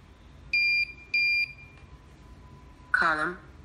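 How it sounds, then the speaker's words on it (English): A Nextion eParrot distillation monitor's buzzer sounds the column, condenser and boiler alarm: two steady, close electronic beeps in quick succession, then a short synthesized computer voice announcement. "Column, condenser, and boiler alarm."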